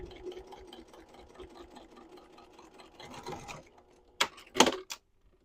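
A sewing machine hums and stitches back over an existing seam on a tote bag for a few seconds, then falls quiet, followed by a few sharp clicks and taps.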